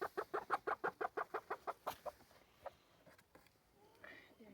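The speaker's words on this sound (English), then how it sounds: "So there's 6 hens and a rooster in here." A quick, regular run of about a dozen clucks from hens and a rooster, then scattered softer clucks and rustling.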